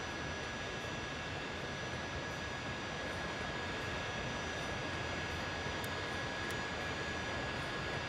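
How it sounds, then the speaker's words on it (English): V-22 Osprey engines spooling up in a flight simulation video game: a steady, dense turbine roar with a thin, constant high whine running throughout, even in level and without speech. "All right, come on, start spooling up."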